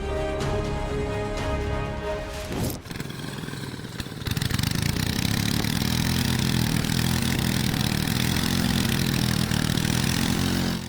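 A tractor engine revs hard on a steep road in heavy rain, its tires spinning on the wet surface; after a short lull the engine roars loud and steady, close by, with no talk.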